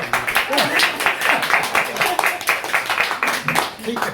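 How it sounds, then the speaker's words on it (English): Audience at a book launch clapping and cheering steadily, a dense continuous patter of many hands with a few voices mixed in throughout. "Keep the clapping and cheering to a minimum"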